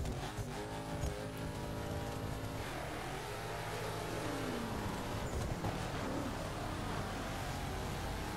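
Engine of a Saleen S7 turbo car launching in a racing video game, loud and continuous with rising and falling engine tones, a tire-squeal edge and a brief whoosh midway, no talk.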